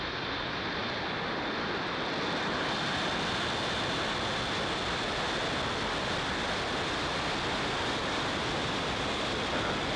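A SpaceX Starlink rocket lifts off with a continuous, dense broadband roar that stays loud and steady throughout, without a break.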